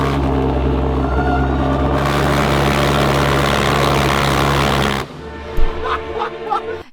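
A homemade jet engine roars continuously and loud for about five seconds, then cuts off abruptly, leaving scattered clanks and rattles.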